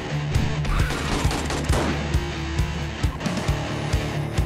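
Rapid bursts of gunfire in the zombie survival game 7 Days to Die, sharp repeated shots over a dense, busy game soundscape with no talking.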